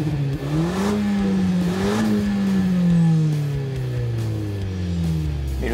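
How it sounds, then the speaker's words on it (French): A Renault Mégane GT with a 205 hp engine and EDC automatic gearbox revs loudly as it drops down several gears, engine pitch falling and rising in close, continuous steps. "On peut simplement la laisser tirer vers soi et là la voiture rétrograde aussitôt qu'elle le peut plusieurs rapports."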